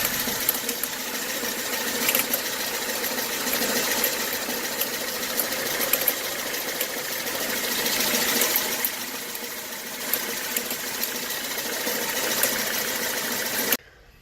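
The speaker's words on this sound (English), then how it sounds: "now you've heard the noise the alternator's making" A BMW 320i N43 engine with a faulty alternator bearing runs at idle, giving a continuous whirring, grinding mechanical drone with slight swells, close and steady, no voices.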